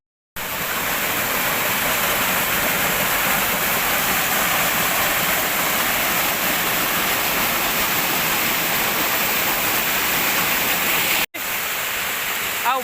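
Water pours steadily down a monsoon-season waterfall at the Shri Chakra Bhairav shrine in Dongaripali, a dense, even roar of broadband rushing noise heard close and uninterrupted, with a brief break near the end.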